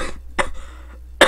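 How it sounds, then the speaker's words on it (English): A person coughs three short, sharp times, close and fairly loud, with brief quiet gaps between the bursts. "Sorry guys, I have a cough."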